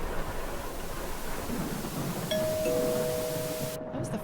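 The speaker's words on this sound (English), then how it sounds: "That was the front doorbell." A front doorbell in a horror video game chimes in two clear tones midway, ringing out over a steady background of storm rain.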